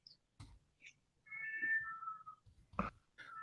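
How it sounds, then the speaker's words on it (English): A cat meows outdoors in cold weather, a couple of drawn-out, wavering cries at moderate distance, amid sparse quiet thumps and small chirping sounds. "Hear that cat?"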